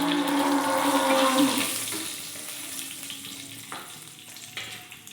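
Dried chillies, bay leaf and cumin sizzle in hot oil with a loud steady hiss that fades after a couple of seconds, followed by a few clinks from a utensil, with no talking.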